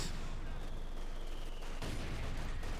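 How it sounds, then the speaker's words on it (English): Mortar fire and battle noise in the WWII strategy game Company of Heroes 2: a continuous loud wash of explosions and crackling shots, with a heavier thump partway through. "A lot of mortar fire there."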